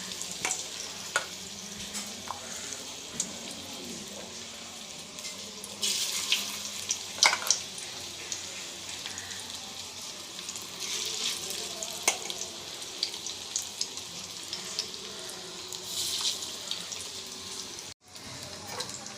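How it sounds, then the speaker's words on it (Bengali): Lentil fritters (bora) fry in oil in a pan, a steady low sizzle with occasional stirring, scraping and louder spatters, continuing without talk. "দিয়ে বড়াগুলো ভেজে নেব"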